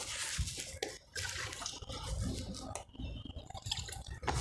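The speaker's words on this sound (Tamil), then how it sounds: "அங்கே தண்ணி இருக்குது அதுக்காக தான் தண்ணி சத்தம் வந்துச்சு" Wet, squelching splashes and drips of water in thick mud, close and continuous with irregular bursts.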